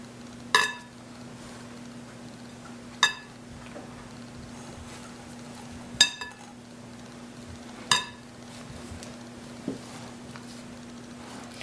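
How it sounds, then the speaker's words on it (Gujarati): Butter being mixed in a bowl for rock cookies: sharp clinks of a spoon against the bowl every two or three seconds over a quiet kitchen hum, with no voices. "માખણ ને જરાક આપણે એને ખાલી જરાક ફાઇન રીતે મિક્સ કરી નાખશું।"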